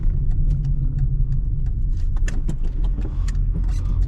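A front-wheel-drive car rounds an easy corner at moderate speed, a steady low engine and road rumble from inside the cabin with scattered small clicks and rattles and no talking.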